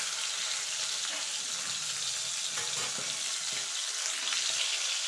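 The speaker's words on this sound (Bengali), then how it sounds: "একটু নাড়াচাড়া দিয়ে এপিট ওপিট করে ভেজে নিলেই হবে" Pakal fish frying in a pan of hot oil, a steady, loud hissing sizzle that runs unbroken and close throughout.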